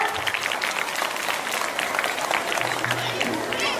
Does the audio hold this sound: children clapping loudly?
yes